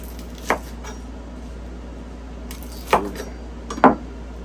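Onions being chopped with a knife for spicy pickled quail eggs: three sparse, sharp knife strikes on a board, close and fairly quiet, with no talking.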